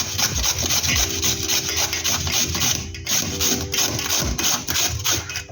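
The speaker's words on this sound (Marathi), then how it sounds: "तर मी आता किसणीवर या किसून घेणार आहे." Ripe cucumber, peeled and seeded, scraped over a hand grater in a home kitchen, making steady rhythmic rasping strokes close by with no talk.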